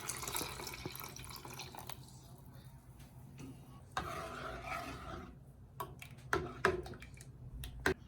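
Reserved water is poured into tomato paste in a cooking pot for a hot and sweet tomato soup, giving a wet splashing and trickling sound with a few sharp drips and clinks near the end, fairly quiet and close.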